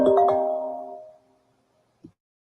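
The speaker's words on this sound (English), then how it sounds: "I got a phone call." A phone ringtone from an incoming call sounds as a bright, layered chime that rings loudly for about a second, then fades to near silence, followed by one short soft blip.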